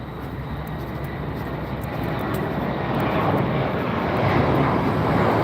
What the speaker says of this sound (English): that plane took off and it was in the sky for like 3 seconds